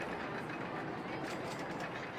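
A roller coaster train runs along its track in RollerCoaster Tycoon: a dense, continuous rattling clatter at moderate level, with no pauses or talk.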